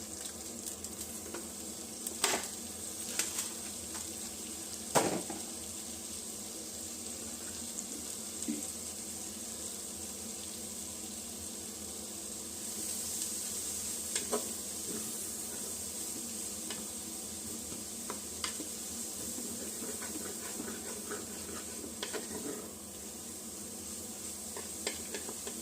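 Shallots and leeks fry and sizzle steadily in a Cookeo multicooker. A few sharp clinks and stirring scrapes are heard close by and nobody speaks.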